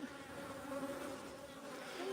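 Honeybees buzzing around an open hive during a midwinter inspection, a steady close drone with shifting pitches from many insects, continuous and moderately quiet, with no voices.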